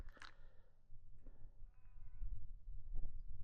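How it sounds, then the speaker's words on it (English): Faint sheep bleats carry from a distance over a low wind rumble, a few short calls scattered across a quiet open-air scene. "you can't hear anything apart from sheep and birds"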